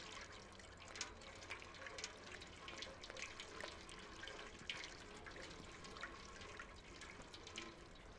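Steady running water in the video game Stray, a continuous close splashing flow like a tap filling a basin, holding even throughout with no voices.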